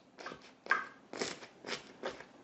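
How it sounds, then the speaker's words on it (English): Crackers dig into a s'mores dip in a bowl, giving five close, rough crunching scrapes in an uneven rhythm with short gaps between them, without any talking. "Can you hear that crunch?"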